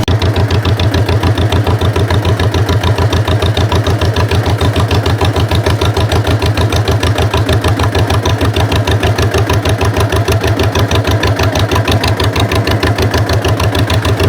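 Tractor engine idling loudly nearby with a steady, rapid knocking chug that repeats evenly and without a break, heard alone.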